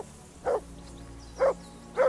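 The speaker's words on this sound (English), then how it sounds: "Whistle at that mutt of yours to stop barking." A dog barks three times in Kingdom Come Deliverance 2, short mid-pitched woofs spaced about a second apart over a quiet ambient game background.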